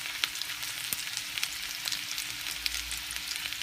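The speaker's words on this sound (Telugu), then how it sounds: "నూనె వేడెక్కింది. ఇప్పుడు ఇందులో సన్నగా తరిగిన ఉల్లిపాయ ముక్కలు వేసుకొని" Finely chopped onions fry in hot oil for a Telugu uggani upma, giving a steady crackling sizzle with scattered sharp pops and spits and no voices.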